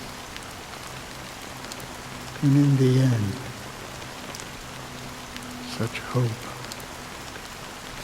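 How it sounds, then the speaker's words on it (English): Steady rain falls in the video game Honkai: Star Rail as an even, hissing wash throughout, with a short spoken line and a few faint voiced sounds over it. "how long has this rain been going on for?"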